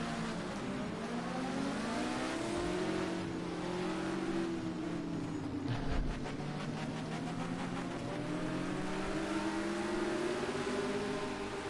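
Field of historic racing cars, Group 5s, GTOs and vintage cars, accelerating off the start at the Nürburgring combined circuit in a sim racing game, a layered engine drone rising and falling in pitch through gear changes, steady and moderately loud, with no voices.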